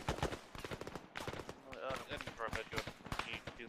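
Gunfire and tank shooting in an Arma 3 military simulation battle, with dense, rapid bursts and heavy shots crackling close by under overlapping radio chatter and voices.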